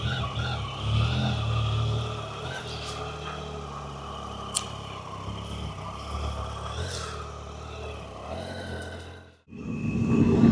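Honda CB500 motorcycle engine, a 28 horsepower machine, running steadily with low rumble as a ride gets under way, holding a fairly constant drone with slight swells before a brief dropout and a renewed surge at the end.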